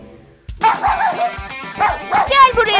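A heavily shedding dog barks and whimpers close by, loud bursts of yapping and whining after a brief quiet start.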